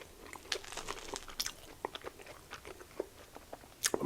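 Close, quiet crunches and bites into a crispy panko-coated Korean corn dog, followed by irregular chewing and faint mouth sounds with no talking.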